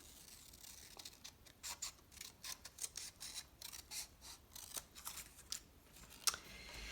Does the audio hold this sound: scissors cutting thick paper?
yes